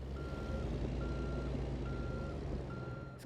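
A truck backing up toward a car-hauling load at a dealership, with a steady reversing beeper sounding in evenly spaced bursts over a loud, low diesel engine rumble close by.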